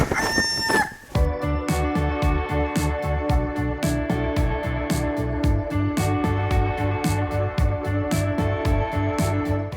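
A backyard chicken crows loudly and close at the start, then rapid rhythmic clucking and squawking carries on steadily to the end.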